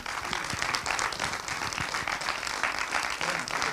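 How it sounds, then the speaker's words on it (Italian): An audience claps in welcome as a guest is introduced, steady and fairly dense applause that holds evenly throughout without anyone speaking over it. "vi prego di accogliere con un grande applauso Mimo Calopresti"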